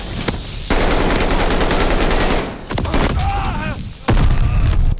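Call of Duty: Vanguard multiplayer gunfire rattles in loud, dense automatic bursts with short pauses between them, close and heavy, while voices speak faintly underneath.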